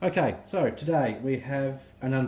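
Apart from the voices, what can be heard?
No everyday noise stands out behind the speech.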